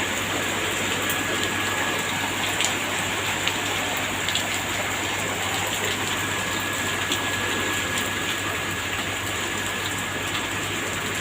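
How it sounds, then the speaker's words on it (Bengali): Heavy monsoon rain pours steadily, a dense, even hiss of drops at close range with a few sharper drips on a surface. It continues without a break and no one speaks. "ওই দেখো বৃষ্টি পড়ছে কত জোরে জোরে।"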